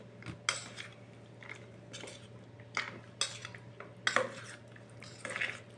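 A spoon clinks and scrapes in a bowl as bori spice paste is mixed with a little water, a series of sharp, close taps and scrapes at irregular intervals with quiet pauses between.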